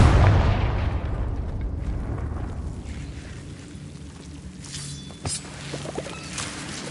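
A Confringo blasting spell goes off in Hogwarts Legacy on PlayStation 4 Pro, opening with a loud, heavy boom that rumbles and fades. Lighter crackles and a brief sharp burst follow later, with no talk.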